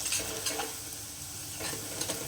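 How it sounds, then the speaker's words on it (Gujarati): Asafoetida and garlic chutney of garlic and chili hitting hot oil in a pan on low flame, a steady close sizzle with brief stirring scrapes throughout, no talking. "આપણે તેલ ગરમ થઈ ગયું છે, થોડી હિંગ એડ કરીશું અને આપણે જે બનાવી હતી લસણની ચટણી એ આપણે એડ કરી દેવાની"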